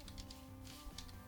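Fingers typing on a computer keyboard, a short burst of light, quick key clicks close to the mic at low level over a faint steady hum.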